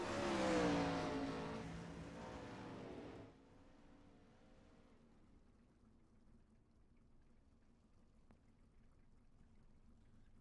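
410 sprint car engines in a sim racing warm-up session, roaring loudly with a revving, droning tone for about three seconds, then dropping to a quieter, steady hum in the background.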